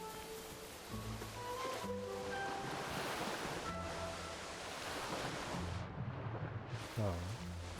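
A waterfall in the video game Kena: Bridge of Spirits gives off a steady, broad rush of falling water, loud and continuous beneath soft musical tones, easing briefly near the end.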